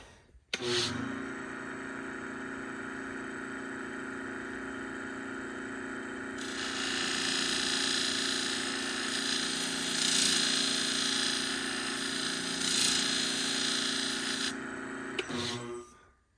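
A sharpening machine running at 1200 grit works on small grooming shears, giving a steady close mechanical whine with a brighter grinding hiss partway through, then stopping abruptly.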